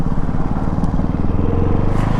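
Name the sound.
Ducati Hypermotard 698 RVE motorcycle engine while braking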